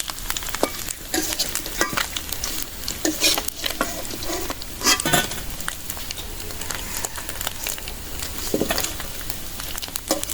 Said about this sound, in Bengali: মাছগুলো একদম জাল কমায় একদম মচমচো করে ভাজলাম